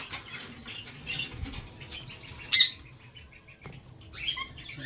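A pair of spangle budgerigars in a breeding cage chirp in short, scattered bursts, close by, with one sharper, louder call partway through and soft rustling between the calls.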